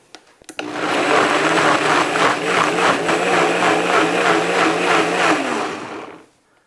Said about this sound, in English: So I'm going to add a teaspoon of salt to it, and then blend everything until I get a kind of what I would call a coarse puree.